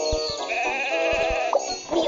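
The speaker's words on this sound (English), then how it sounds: "Sheep have wandered onto the tracks!" Cartoon sheep bleating from a Thomas and Friends train video game on a tablet, a couple of clear close bleats over faint game music and soft clicks.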